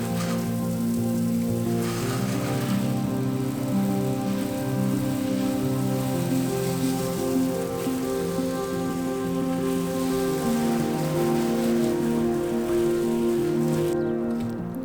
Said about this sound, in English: I'm getting the Mini completely wet first.